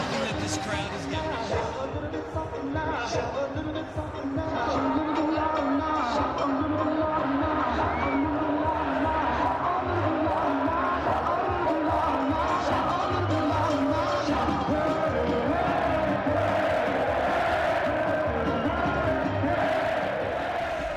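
A loud, steady roar from a stadium crowd cheering at a Ducks home game on senior night, with whoops and shouts rising over a dense wall of noise that swells after the first few seconds and holds.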